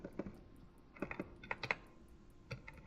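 Scattered computer-keyboard keystrokes tap out in quick little clusters, fairly quiet and close, with short pauses between bursts and no talking.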